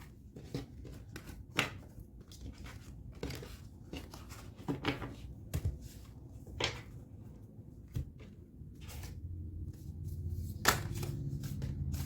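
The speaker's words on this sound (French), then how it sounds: "je vais vous tirer les cartes conseils" Tarot advice cards are shuffled and drawn by hand, giving soft scattered flicks, slides and taps at close range, quiet and irregular, with no talk.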